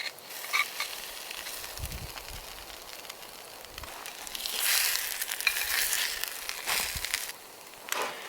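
Onions frying in a pan at a campsite, a steady soft sizzle with faint crackles that swells louder midway through, a few low knocks from the pan underneath, and no voices.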